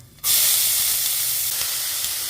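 Onions dropped into hot oil with mustard seeds, curry leaves and browned chana dal, bursting into a sudden loud hiss that settles into a steady close sizzle.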